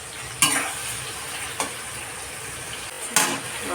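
Mixed vegetables sizzle in a kadai with a constant soft frying hiss. A utensil scrapes through them three times at uneven intervals, each stir a short, bright clatter.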